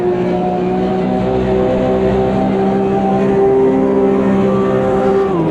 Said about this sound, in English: This is the time Porsche Cup race once again with the 911 GT3 in the field.